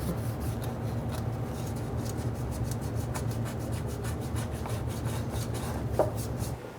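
Steady scraping and rubbing of a pad or scraper over the water pump seal surface on a 2003-2008 Honda Pilot engine block, continuous close friction noise with faint light taps, no talking.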